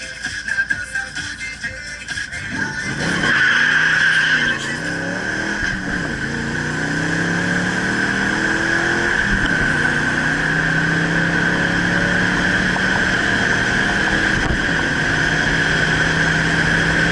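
At a night drag strip, a Ford Fusion SE and a Saleen-tuned Ford Mustang launch side by side, engines roaring loud then holding a long high-pitched drone of accelerating cars with gear shifts audible as the pitch drops and climbs again.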